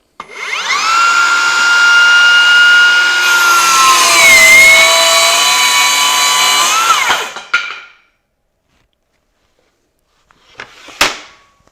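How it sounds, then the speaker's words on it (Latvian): A Bosch GKS 18V-57 cordless circular saw spins up and cuts steadily for about seven seconds, a loud close whine with sustained tones, then winds down; a short scrape or clatter follows after a pause. "Šobrīd es ieslēdzu šo te slēdzi, lai varētu piespiest zāģa ieslēgšanu un sāku zāģēt."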